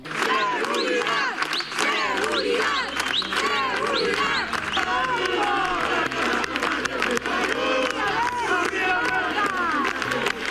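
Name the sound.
protest crowd chanting for public safety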